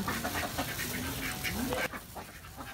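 Domestic ducks quacking on a farm, a continuous overlapping flock chorus with repeated short calls, fairly close and steady throughout.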